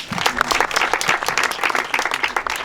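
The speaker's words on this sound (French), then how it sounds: "on l'aime la Véronique qui est là, voilà, on peut l'applaudir." Crowd at an outdoor pétanque open breaks into strong, lively applause, many hands clapping densely and evenly at close range without pause.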